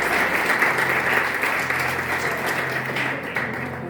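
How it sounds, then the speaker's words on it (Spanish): A church congregation bursts into warm applause welcoming a newcomer, a dense, even clapping that runs steadily for a few seconds and tapers slightly at the end, with a faint murmur of voices underneath. "Gladys, un aplauso para Gladys."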